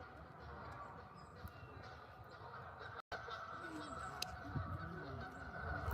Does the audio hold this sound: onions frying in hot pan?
no